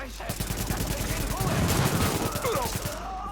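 Rapid automatic gunfire in The Division video game rattles in a dense, continuous burst of shots at close range, with voices shouting over the shooting.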